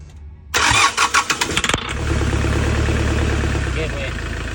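Hyundai Porter with a D4CB diesel engine that starts hard and misfires: a loud starter cranks in quick pulses, then the engine catches and settles into a rough, rumbling idle.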